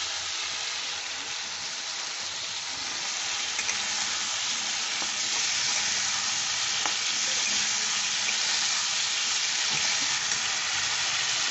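Cauliflower masala is stir-fried with a little water and Kashmiri chili powder, producing a steady, dense sizzle and bubbling hiss, with occasional light stirring clicks and no voices.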